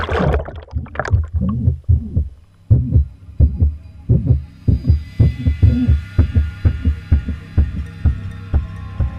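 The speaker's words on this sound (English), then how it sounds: "that's actually the sound of the rope on the edge of the flotilla" Rope rubbing against the edge of a flotilla in the water of an abandoned, flooded missile silo, heard as a steady run of deep, soft thumps in a heartbeat-like rhythm that stays close and fairly loud throughout.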